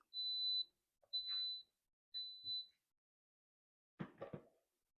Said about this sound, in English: So when it's done, you'll hear 3 beeps.